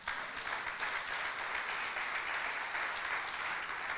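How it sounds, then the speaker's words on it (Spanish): A church congregation applauds for the Lord, a dense, steady wash of clapping from many hands that continues evenly throughout at moderate distance. "Le damos un aplauso al Señor."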